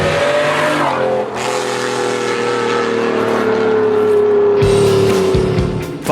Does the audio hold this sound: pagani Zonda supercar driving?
yes